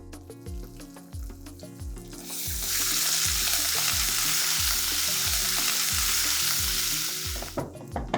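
Ginger, green chili and asafoetida fry in a pan for a pumpkin curry, a steady loud sizzle that swells partway through, with repeated soft stirring scrapes underneath.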